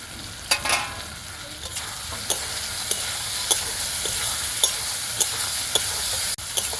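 Fried potatoes sautéed in a spiced paste for a village-style rohu fish curry, a steady close sizzle broken by a regular series of sharp spatula scrapes and clinks against the pan.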